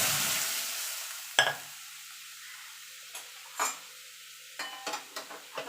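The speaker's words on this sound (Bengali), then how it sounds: "এবার ডালটাকে আমি ঢেলে দেবো।" Dal poured into a hot pan for a sour amra dal gives a sizzle that fades out, followed by a few short scraping stirs and light clinks in an otherwise quiet kitchen.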